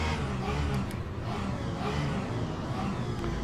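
Race cars rolling together around Sebring on the formation lap in the sim Le Mans Ultimate, a steady blended engine drone and whir that stays level throughout with no talking.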